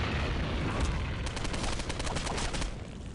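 An assault rifle fires in Postal 2 in a rapid automatic burst, the shots close and crackling in quick succession over a heavy rumbling bed, then fading out at the end.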